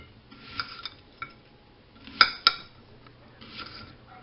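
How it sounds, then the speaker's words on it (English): A knife chopping onion directly on a plate makes a few sparse, light clicks and sharp clinks, with a brief double clack in the middle. The sounds are faint and close, and no one speaks. "I'm cutting on the plate"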